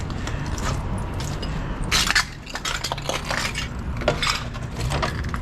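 Footsteps crunching over scattered cans, broken glass and beer bottles in Los Angeles, producing irregular clinks, rattles and gritty crushes close by, with bursts of brighter glassy jangling.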